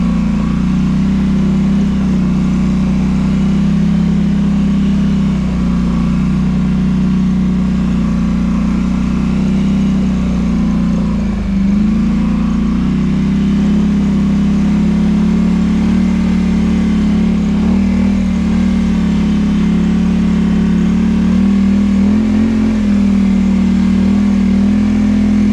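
A Polaris Sportsman 850 ATV engine drones loud and close throughout, a steady mid-pitched hum with slight throttle swells as the quad drives along a rough woodland property track; no talking.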